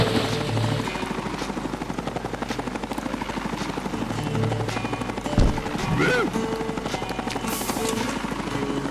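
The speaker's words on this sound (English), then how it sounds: "You use the chopper to pick them up and move them over the pontoon." Video-game helicopter from Ty the Tasmanian Tiger 2 flying continuously, a steady whirring rotor drone under busy game music and effects, with a brief thump partway through.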